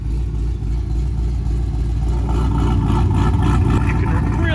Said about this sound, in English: Regular idle, it's pretty quiet, but when you open it up,